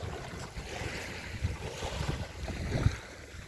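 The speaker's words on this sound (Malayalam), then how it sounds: "ഒരു ബോട്ട് വരുന്നുണ്ട് അവിടെ അകലെ." A boat approaches far out at sea off Chavakkad Munakkal Kadavu beach, its faint low drone mixed with small waves washing in and gusts of wind buffeting the microphone.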